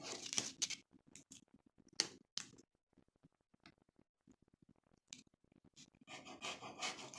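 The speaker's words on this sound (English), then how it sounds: "So I'm going to start slicing just into strips." A knife slices orange peel into strips, making quiet, scattered scraping and cutting strokes with short pauses between them, close up and soft.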